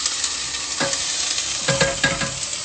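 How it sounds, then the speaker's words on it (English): Chopped onions and garlic sautéing in a hot pan, a steady sizzle broken by a few stirring scrapes, close and clear with no talking. "I love that sizzle. Who doesn't love that sizzle?"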